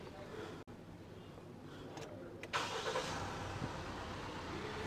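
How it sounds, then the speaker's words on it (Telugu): A Mahindra Thar Roxx diesel engine cranks and catches, with a brief start burst before the motor settles into a quiet, steady idle heard from nearby. "మీకైతే ఒకసారి ఇంజిన్ స్టార్ట్ చేసి అయితే చూపిస్తాను"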